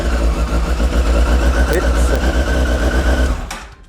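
A Honda motorcycle engine, just started with a newly programmed HISS key, runs loud and close at a steady idle with a dense mechanical rattle before being cut off abruptly near the end.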